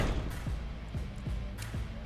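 In the video game Mayhemers, a bomb is thrown amid a run of dull, evenly spaced thumps over a steady noisy game backdrop.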